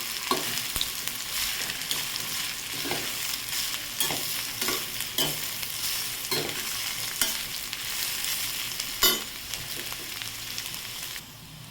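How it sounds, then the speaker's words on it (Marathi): Bitter gourd stir-fries in hot oil, giving a steady, fairly quiet sizzle with spaced scraping strokes of a spoon against the pan and one sharp clank near the end. "तेल गरम झालेलं आहे त्यामध्ये कारलं परतून घ्यायचं"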